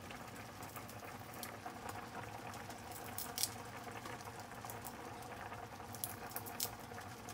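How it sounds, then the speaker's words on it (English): Tomato sauce with juices and grated garlic simmers over low heat in a pan for spaghetti with feta, giving a steady close patter of small bubbles and crackles, with occasional sharper pops. "now this is on a lower heat and it's got those tomato juices. It's not like splashing everywhere now because it's becoming an emulsified sauce"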